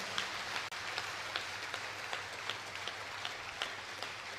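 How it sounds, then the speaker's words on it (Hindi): A large audience claps in a steady, faint wash of applause for three honoured men at a public address, sustained throughout with no voices above it. "एक बार तीनों महान पुरुषों के लिए जोरदार तालियां बजाओ।"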